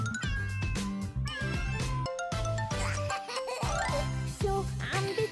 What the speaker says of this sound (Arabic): مياو مياو مياو.